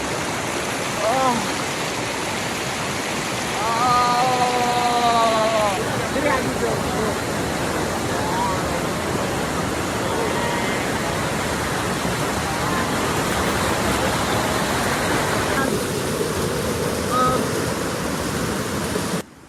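A strong river current rushes loudly and continuously, a dense roar of flowing water close by, with voices talking over it.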